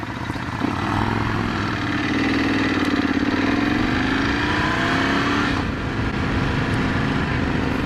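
A 2018 Ducati Scrambler 1100 motorcycle accelerates at full throttle in second gear, its engine note climbing steadily in pitch, loud and close throughout with no talk.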